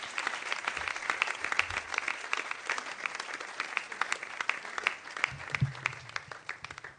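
An audience at a French-speaking church gathering claps steadily in warm, sustained applause lasting the whole stretch, with faint voices mixed in underneath.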